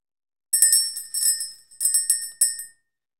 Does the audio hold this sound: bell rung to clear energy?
yes